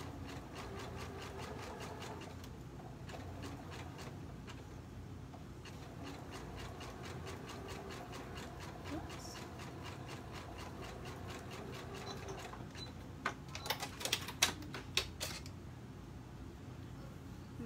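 A sewing machine stitches a loungewear neckline in a steady, fast mechanical whir with a regular rhythmic pulse, running continuously before a few sharper clicks near the end.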